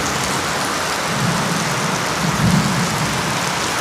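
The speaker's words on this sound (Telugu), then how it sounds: "రెయిన్ బాగా వస్తుంది, దంచి కొడుతుంది రెయిన్" Heavy rain pours down in a dense, steady roar close by, with a deeper rumble swelling briefly midway and no voices.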